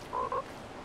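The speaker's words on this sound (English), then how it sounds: "Fortnite got motherfucking frogs" A frog in Fortnite gives two quick croaks in a row, faint and brief against a quiet background.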